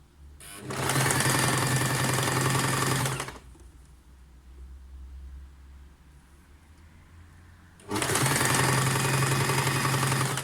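Sewing machine stitching elastic onto jersey fabric in two loud, fast bursts of buzzing, rattling needle action lasting about three seconds each. A quieter pause separates them, close to the machine.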